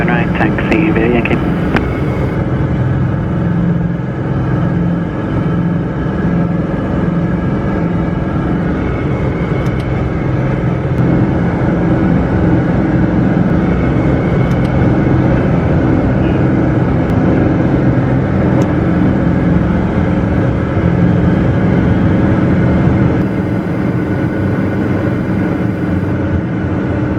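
A Piper Malibu PA-46 single-engine aircraft roars steadily at takeoff power, a loud continuous drone with rumble that holds for the whole span, with a voice speaking briefly near the start.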